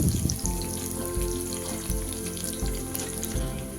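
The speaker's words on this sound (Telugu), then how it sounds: "సో ఆయిల్ హీట్ ఎక్కాక కరివేపాకు పచ్చిమిర్చి వేసుకొని ఒకసారి కలుపుకుందామండి" Curry leaves and green chillies fry in hot oil for egg fried rice, a continuous crackling sizzle with brief pops, steady and close throughout, with no talking.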